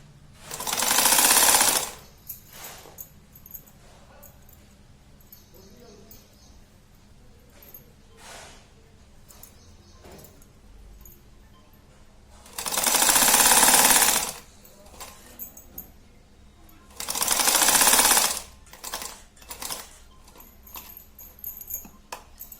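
Sewing machine stitching fabric for homemade socks, three loud sustained runs of rapid mechanical chatter separated by quiet pauses and faint handling noises, close by.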